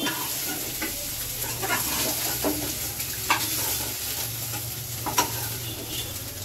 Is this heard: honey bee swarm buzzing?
no